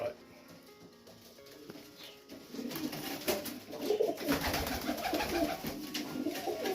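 Young racing pigeons in a loft cooing softly, low throaty coos that grow busier toward the end, recorded close with faint background hiss and someone talking over them.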